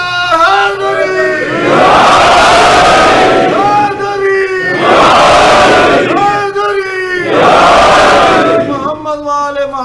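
A large crowd at a religious gathering roars a loud shouted slogan in three long swelling waves, each a massed bellow of voices that rises, holds and falls back before the next.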